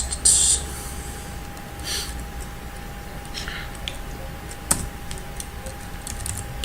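Keyboard typing with a few distinct key presses, including a quick Ctrl Shift A shortcut, soft and close against a steady background hum with one sharp click near the end.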